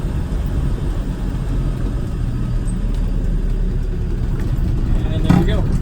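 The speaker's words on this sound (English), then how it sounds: "Downshift into 3rd gear." A 1991 Land Rover Defender 110 200tdi diesel engine drones steadily at low pitch while downshifting into third gear, a continuous rumble with a slight rise near the end.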